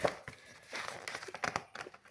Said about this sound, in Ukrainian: Я перегортала сторінку.